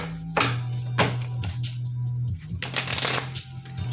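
A deck of tarot cards is shuffled close up, with several quick riffling bursts and soft slaps over a steady low background hum.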